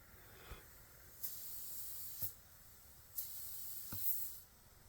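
Air hisses from pinhole punctures in the custom air suspension airbags of a Pontiac Montana van: faint, sharp bursts recur about once a second over a soft background hiss.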